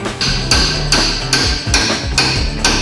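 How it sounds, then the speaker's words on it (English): U-bolts on a 1967 Jeepster are struck with a hammer, making loud, close metallic blows in a steady rhythm of about seven strikes, each ringing briefly. "Maybe if we beat them all the way down, it'll give us enough to bend, get them in place."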